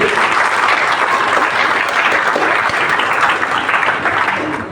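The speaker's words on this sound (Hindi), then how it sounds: "मैं चाहूंगा इस बात के एक बार जोरदार तालियां होना चाहिए।" A large crowd claps steadily and loudly, sustained applause filling the whole stretch without pause.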